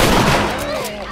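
Gunfire from The Last of Us Remastered on PS4, loud and dense right at the start, then tailing off under a lingering echo as the action moves on.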